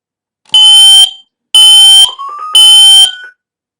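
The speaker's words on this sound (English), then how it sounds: "My alarm unit did the acknowledgement tone." A Careium i10 alarm unit sounds its acknowledgement tone: three loud, piercing electronic bursts about a second apart, each harsh and buzzy, with a short rising chirp between the last two.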